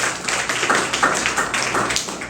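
Small children at a Children's Day gathering break into loud applause for a classmate: a busy, continuous rattle of many hands clapping together, close and energetic, with no voices over it.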